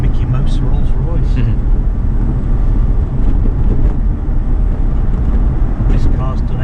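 Interior rumble of a Rolls-Royce Shadow Coupe on the move, with a constant low drone of engine and tyres lasting the whole stretch while people talk over it.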